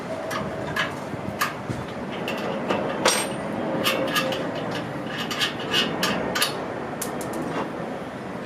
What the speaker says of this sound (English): Take off these two nuts using a 1/2-inch wrench.